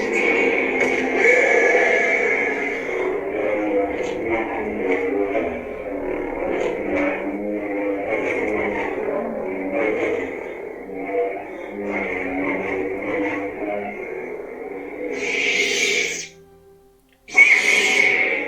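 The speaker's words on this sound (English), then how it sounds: "I think you can even hear the Wampa at some point." Hoth-themed sound font on a Sabertrio Aeryn lightsaber: a steady humming drone with a growling, whinny-like creature cry worked into it, then a brief cutout and a sharp burst at the end.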